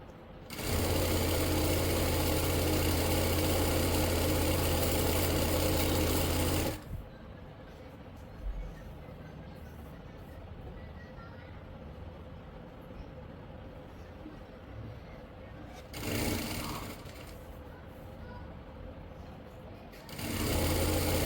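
Electric sewing machine stitching the ban collar of a kurti, running in loud steady bursts of about six seconds, then a pause, with two shorter runs later and quiet room sound between.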